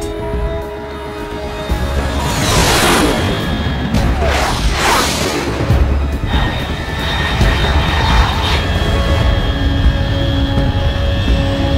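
A fast, high-altitude aircraft from the Metal Gear Solid 3 game passes overhead, a steady loud roar with whooshing surges, with no talk over it.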